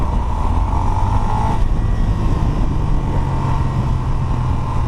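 Steady engine drone of a big Moto Guzzi cruiser motorcycle on the move, a loud, continuous rumble with low throb and wind roar carrying without a break and no voices.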